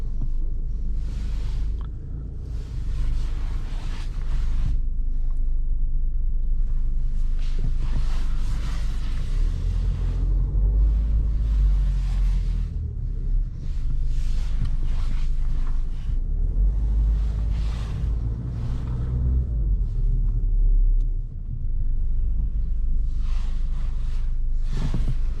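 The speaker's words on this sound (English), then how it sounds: "Now let's take it for a spin. All right, so let's go for a drive." Peugeot GT Line with the HDi 130 diesel and EAT8 automatic on the move, a steady low road rumble and cabin drone with occasional brief bumps and clicks, no talking.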